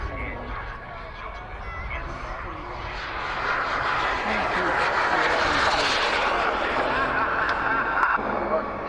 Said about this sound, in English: it's Azza, the Havoc, Jet Italian 250. Watch this guy, he's good as well